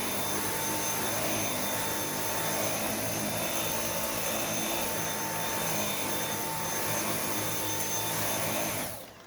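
A vacuum cleaner fitted with a full-size power head attached directly to the machine runs steadily with a loud, constant motor whine and airflow roar, then cuts off at the very end.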